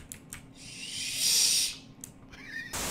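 In the Valorant video game, a flash ability fires as a short, bright whooshing hiss that swells for about half a second and then fades, with faint game noise around it.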